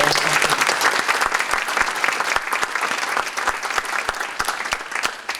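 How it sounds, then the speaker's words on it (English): Audience at the Armijo High School Hall of Fame induction applauds, sustained crowd clapping with sharp individual claps standing out near the front, steady throughout. "Please join me with applause and acclaim in welcoming Ron Thompson into the Armijo High School Hall"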